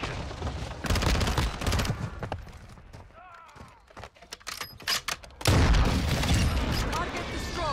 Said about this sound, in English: Airstrike near your location.